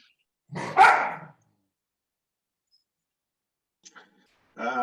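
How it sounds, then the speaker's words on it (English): A single loud bark up close, then quiet, followed by a couple of faint clicks and a short whining, yelping sound at the end. "Barking dogs are always happy."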